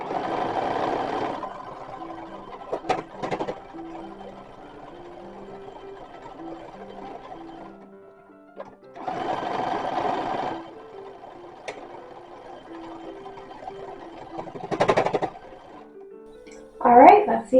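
A sewing machine stitching the second side of a 1920s/1930s-style dress runs in short separate bursts with quiet pauses between them, moderately loud and close, with a few clicks and handling sounds mixed in.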